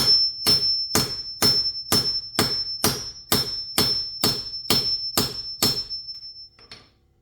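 About a dozen sharp metallic hammer blows drive a socket extension onto a wheel lock in a steady rhythm, each ringing briefly, close and loud, then stop.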